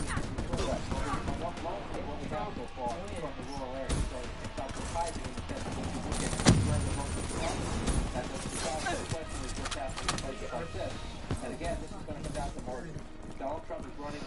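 VMP submachine gun fire with a fast mag in Black Ops 3, with bursts of rapid shots scattered through a busy game soundscape while players talk over it.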